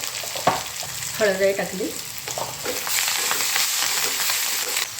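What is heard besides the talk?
cumin and mustard seeds frying in hot oil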